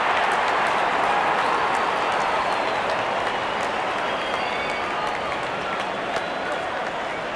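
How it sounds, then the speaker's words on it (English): Cricket stadium crowd in South Africa versus Australia match, cheering and clapping in a broad, steady roar that holds at a constant level throughout, distant and dense with no distinct voices. "Openers walking in and the crowd cheering in anticipation."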